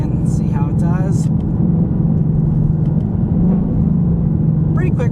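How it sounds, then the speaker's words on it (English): A 2024 Ford Mustang GT with Performance Pack and 10-speed automatic runs under manual shifting, its steady engine rumble filling the cabin while faint voice fragments appear briefly at the start and end. "this is still the 10-speed automatic transmission, so we will do the manual shifts here and try that out"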